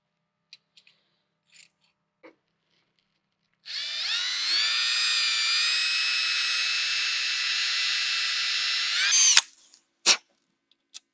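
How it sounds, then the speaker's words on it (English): A power drill spins up and runs steadily for about six seconds as it bores 1/8-inch holes through plastic and a metal plate, then winds down, with a few faint taps around it. "drill these holes, 1/8" holes, through the plastic and through the metal plate"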